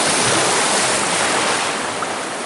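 Baltic Sea waves wash steadily onto the coast in spring, a continuous broad rushing surf with no voices, close and fairly loud.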